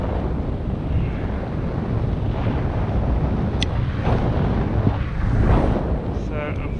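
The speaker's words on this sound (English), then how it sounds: "the wind is directly in front of me now at 24 k's an hour" Steady, loud wind roaring across the microphone while paragliding into a 24 km/h headwind during a competition task, with a broadband rush that swells slightly near the end and no talking.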